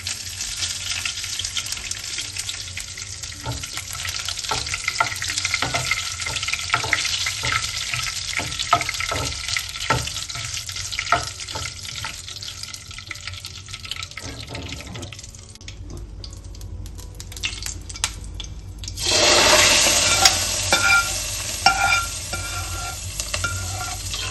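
Mustard seeds and curry leaves crackle in hot oil with the gas turned off, a steady sizzle with scattered pops and stirring clinks, then a louder, brighter burst of hissing near the end.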